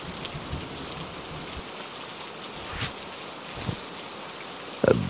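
Steady rain falls in a rainy-day cartoon scene, a continuous even hiss of drops with a few soft splashes and a louder patter near the end, no talking.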